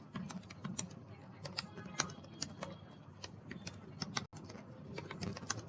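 Steady typing on a computer keyboard, rapid close key clicks in an uneven rhythm with one brief pause, quiet and alone.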